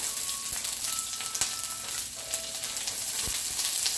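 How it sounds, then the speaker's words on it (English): Chopped onion, garlic and pepper fry in olive oil in a pan, giving a steady close sizzle with occasional clicks and scrapes of stirring. "I'm going to go in at once with my onion, my garlic, and my pepper"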